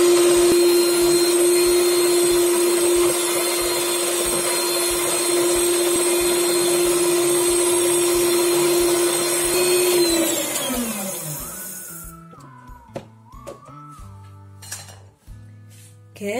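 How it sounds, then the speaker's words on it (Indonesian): Electric hand mixer whipping cake batter at its highest speed, a loud steady whine with clinking against the bowl that winds down around ten seconds in, followed by scattered clinks and knocks. "kita mixer dengan kecepatan paling tinggi selama 5 menit."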